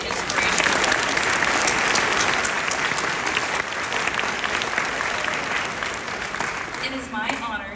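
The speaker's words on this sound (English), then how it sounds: "Let's give another round of applause for those amazing, inspirational." Sustained audience applause at a nursing pinning ceremony for a graduating class, steady dense clapping filling the hall throughout, with faint voices rising near the end.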